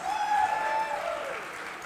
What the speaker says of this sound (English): We can applaud for Memphis,